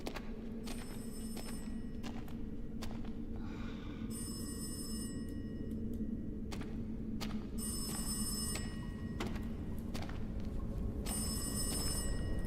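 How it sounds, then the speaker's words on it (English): A telephone bell rings in a video game in three separate bursts of rapid metallic trilling. It sounds moderately distant against a constant low ambient drone, broken by occasional clicks. "I hear a phone again."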